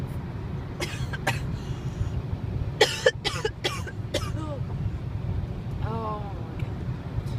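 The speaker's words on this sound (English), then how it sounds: "Oh, I'm gonna cough." A person coughs several times in short bursts over steady outdoor background noise, then gives a brief vocal sound near the end.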